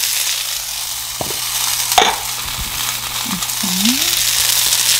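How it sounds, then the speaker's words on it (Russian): Food sizzles and hisses steadily in a hot pan, with a few scraping clatters of a utensil stirring it; the dish includes fresh cilantro. "2 секундочки буду жарить."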